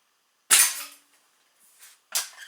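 A Slavia 630 .177 air rifle, made in the Czech Republic, fires pointed pellets in a velocity test: one sharp, loud crack, a faint rustle, then a second sharp report close by.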